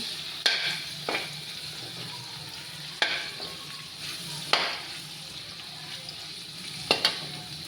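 Onion, tomato and garlic stirred in a pan while they sauté for a mung bean stew, giving a steady soft sizzle broken by several sharp scrapes and clacks of the utensil against the pan, with no talking.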